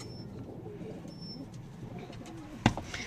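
Soft pigeon cooing murmurs low and steady in the background, with a sharp brief clatter near the end.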